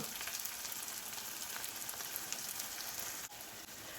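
Masala sizzling in oil for a white chana roast, a continuous close frying hiss with fine crackling, a brief dip near the end, no talking.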